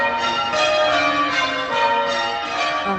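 Bells ring out in a steady, resonant peal on a theatre stage during a production of A Christmas Carol, with overlapping tones sustained throughout.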